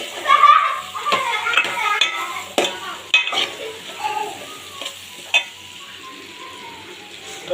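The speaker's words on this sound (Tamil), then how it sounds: "கொஞ்சம் வந்து ஃப்ரை பண்ணிடலாம்" Frying in a pan while making Nellore-style fish gravy, with soft sizzling and the scrape and clink of stirring in a pot, brief knocks of utensils, fairly close, fading to a quieter sizzle toward the end.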